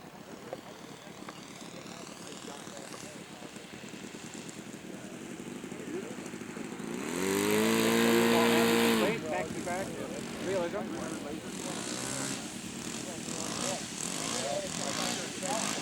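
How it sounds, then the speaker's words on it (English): Scale model propeller airplane landing at a scale aircraft show, its engine drone rising to a loud, close pass with a Doppler pitch sweep before fading, while an announcer talks over it. "Okay, Dick Hansen on his final maneuver of this round. That's the landing."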